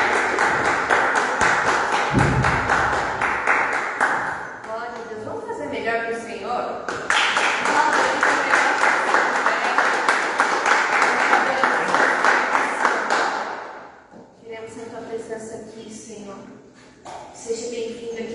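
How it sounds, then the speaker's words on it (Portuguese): A church congregation applauds during an evening worship service, continuous crowd clapping with a brief thump near the start, and it thins out briefly before picking up again toward the end. "Querido, aplauda ao Senhor."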